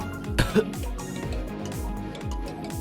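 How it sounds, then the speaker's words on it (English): A man coughs, a short, sharp burst followed by a second quick cough, close by over a steady low musical background. "with a tickle in his throat, turns his head to cough"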